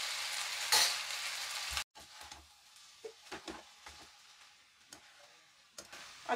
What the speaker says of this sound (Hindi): राइस ऐड कर देती हूँ और दोनों स्पून से अच्छी तरह से मिक्स कर लेती हूँ